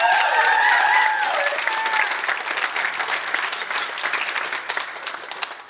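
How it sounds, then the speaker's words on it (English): An audience bursts into loud applause at a live talk, with dense, steady clapping that fills the room, a few whoops riding over it early on before the clapping gradually thins and softens toward the end. "Let's give him a round of applause."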